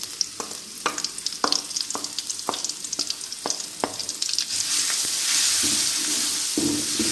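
Garlic paste goes into a hot pan and fries for a vegetable and lentil dish. A string of sharp stirring knocks comes first, then the sizzle swells into a steady, louder frying hiss.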